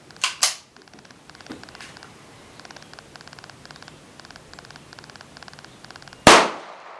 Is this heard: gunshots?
yes